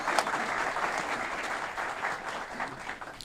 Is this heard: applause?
yes